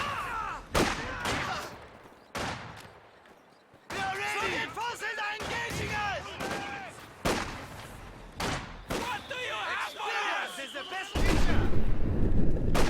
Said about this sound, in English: Random super deep reverberations every so often when that mortar fires around